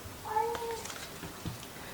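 A short, fairly clear cat meow near the start, followed by soft thumps and faint room noise.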